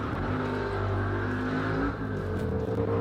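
A Ford Capri races up the short SIMOLA hill climb track, its engine roaring loudly and steadily under hard acceleration with a sustained, close, rasping drone.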